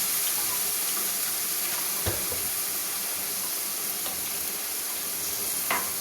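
Water added to a pan of frying arbi (taro root) masala, steady sizzling and hissing throughout with a few brief stirring clinks, close and fairly loud, no speech.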